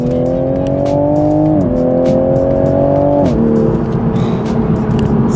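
A Toyota Supra fitted with a new aftermarket downpipe accelerates, its engine note loud and close, stepping up through revs with a steady exhaust drone.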